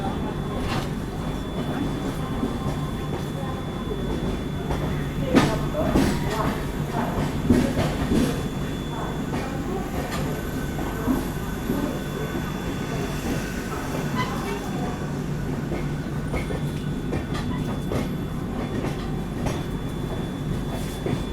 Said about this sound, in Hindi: 5 मिनट के स्टॉप के बाद अब अपनी राजधानी निकल रही है झांसी रेलवे स्टेशन से।